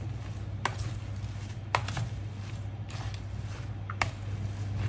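Squash is mixed with salt, pepper, seasoning and garlic powder in a bowl, giving a few sharp knocks at irregular intervals over a low, constant hum.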